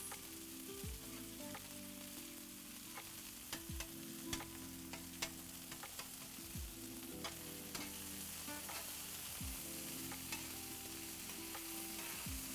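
Vegetables and onions fry in a pan for an Italian sausage hoagie, a dense sizzle broken by repeated clacks and scrapes as tongs toss them, close and alone without talk.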